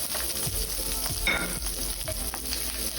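Capsicum and onions sizzle and fry in a lightly oiled pan, a steady close hiss with occasional stirring knocks and scrapes throughout, no voices.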